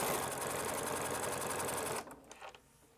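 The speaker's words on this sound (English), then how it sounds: "all we need to do is stitch and stitch and stitch and stitch" A sewing machine fitted with a heavy denim needle runs steadily, stitching through a padded fabric tube, its fast even whir filling the first two seconds before stopping, followed by a few faint handling clicks.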